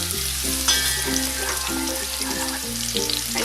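Chopped onions sizzle in a pan for a Gujarati chana bateta shak, with a steady bright fry as they are stirred, heard close under a prominent backing of music.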